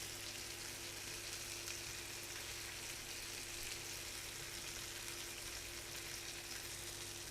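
Peri peri chicken pieces frying in a pan with leftover spice paste after about 35 minutes of cooking, a faint, steady hiss and low sizzle running continuously, with no talk.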